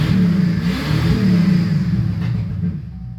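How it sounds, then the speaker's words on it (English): A car engine revs in a few short rising bursts after a home exhaust repair, loud and close, then settles back toward a smoother idle. "I'm going to tighten it and then I'm going to give it a few revs"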